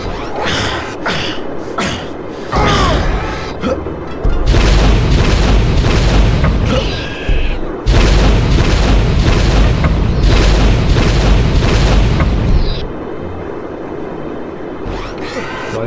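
Missile launcher explosions in the video game Turok 2, in the level Hive of the Mantids: a run of heavy, loud booming blasts that merge into long roaring stretches before cutting off.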